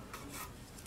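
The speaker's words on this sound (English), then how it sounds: "I'm gonna have to use my chisel" Chisel cutting into wood while shaping an octagon bar stool leg, a short, close, steady scraping rasp with slight swells in intensity.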